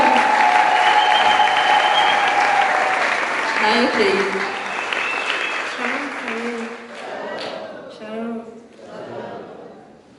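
A church congregation applauding for Christ at a refugee-city gathering in Rwanda, loud crowd clapping that gradually thins out, with chuckles and a voice speaking as it fades.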